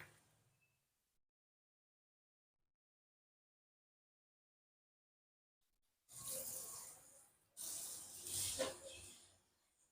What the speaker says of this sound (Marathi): हिंगावर तापलेलं तेल टाकू.